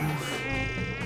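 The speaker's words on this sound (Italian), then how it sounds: "Non ora, zanzare!" Mosquitoes buzz in a cardboard campsite set up at home, a close, thin, continuous whine with wavering pitch and no voices.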